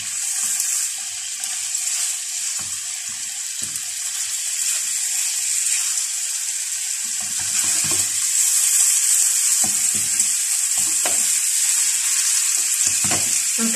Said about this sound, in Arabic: وانا نديرو لي بروشيت ديالنا يتقلاو هكا